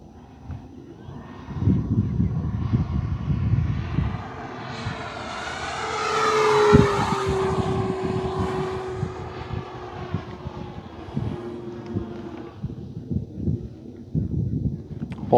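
An FMS T-28 Trojan 1.4 m RC model airplane runs its electric motor and propeller at full throttle on a runway, a loud rising whine that swells to a peak, then holds steady as the plane moves away.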